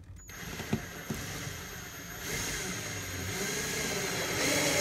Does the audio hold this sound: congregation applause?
no